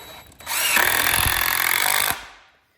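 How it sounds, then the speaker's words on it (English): Power drill driving a Torx screw into wood while building a race ramp, one close continuous whirring burst lasting under two seconds and then winding down to silence. "So I'm going to start out with just one screw in each corner first."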